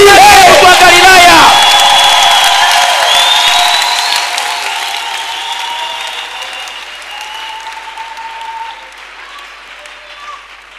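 A church congregation in Bunia, Ituri, breaks into loud applause and cheering with shouts, strongest at the start and then gradually fading into scattered clapping and whoops.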